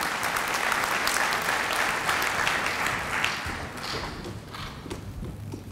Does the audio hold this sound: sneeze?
no